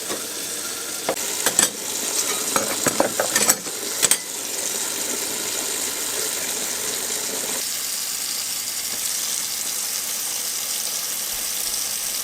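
Knife blades being washed by hand in hot water with washing-up liquid: splashing and sloshing with a few sharp knocks early on, then a steady running-water hiss continuing alone.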